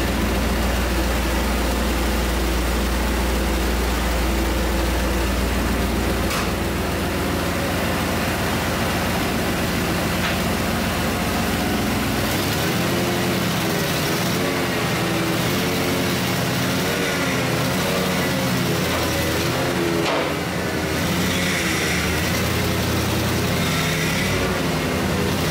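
A Ford Bronco engine, newly fitted with Holley Sniper EFI, runs loud and close as the truck pulls out of a garage, a steady low rumble that shifts in tone partway through.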